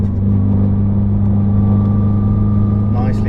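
A supercar accelerates on the Silverstone circuit, its engine holding a steady loud drone heard from inside the cabin, with an instructor's voice talking over it.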